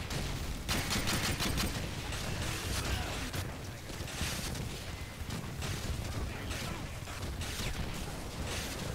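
Continuous explosions and gunfire in Call of Duty MW2 multiplayer, a dense rumbling barrage of booms and crackling shots that never lets up across the whole stretch.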